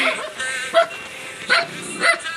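A dog barks close by, letting out three short yipping barks in quick succession over a busy outdoor background at dusk.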